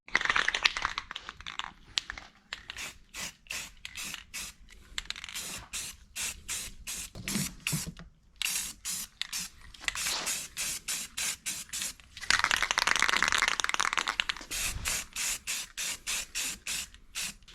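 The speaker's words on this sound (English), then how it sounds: "we're going to spray these up a little bit and freshen them up just a little bit." Aerosol can sprays rust converter onto car parts of a 300ZX project car in a series of short hissing bursts with brief pauses between, plus a few longer continuous sprays, close and clear with no talking.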